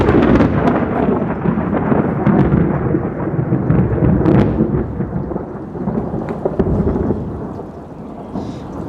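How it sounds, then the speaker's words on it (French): Loud, deep thunder rumbles and rolls continuously, mixed with heavy rain, swelling and fading over several seconds before easing toward the end, heard from shelter under a village market hall in France. "On entend le tonnerre."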